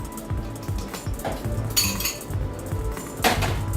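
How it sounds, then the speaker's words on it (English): Wire whisk stirring sugar into flour in a mixing bowl for chocolate cupcakes, close, busy clinking and scraping of metal against the bowl with a few sharper rattling bursts. "we have the flour, we have our wire whisk. I'm going to mix in our 2 cups of sugar."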